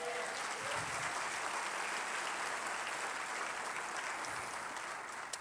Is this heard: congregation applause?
yes